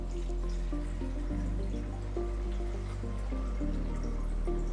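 Distilled water pours into the reservoir of a Hotline fluid warmer, a continuous close fill with a rising liquid tone, with no talking over it.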